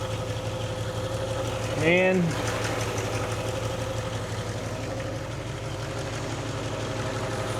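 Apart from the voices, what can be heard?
Ford 260 V8 engine idling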